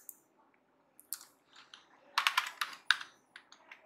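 Bursts of quick key clicks from someone typing on a computer keyboard, sparse taps at first, then a dense run of keystrokes, all close and clear with no talking.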